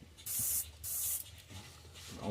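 An airbrush sprays paint onto a fish lure in two distinct bursts of hissing air, each about half a second long, with quiet pauses between them and no talking.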